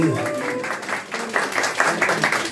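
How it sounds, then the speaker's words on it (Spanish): Applause from a small crowd at a mariachi birthday performance, a sustained patter of clapping running through the whole stretch and swelling slightly toward the end, with some voices mixed in. "el aplauso muy bonito, muy fuerte,"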